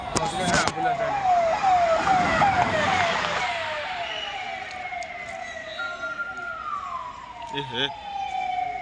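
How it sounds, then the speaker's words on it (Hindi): An ambulance siren wails in rising and falling sweeps, loud then fading as it moves off, with traffic noise and brief voices around it. "एम्बुलेंस टा पशिगला रे"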